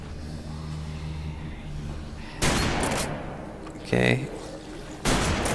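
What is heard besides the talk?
gunfire from the video game Deadlight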